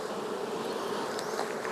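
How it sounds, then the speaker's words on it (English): Honey bees swarm close around an opened beehive during an inspection, a dense, steady buzzing drone that fills the short moment with no talk over it. "I got bees all over my camera."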